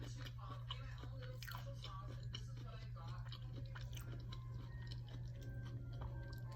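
Someone bites and chews a very crunchy cracker-like snack up close, with steady crisp crunches over a constant low hum.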